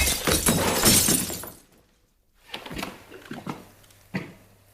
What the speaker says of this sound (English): Zidane destroys Beckham's trophy glass cabinet